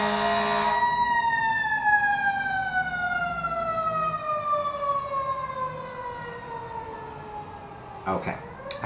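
An emergency vehicle siren, likely a fire truck, wails outside, loud and steady with a slowly falling pitch for about eight seconds before a brief burst of other noise near the end.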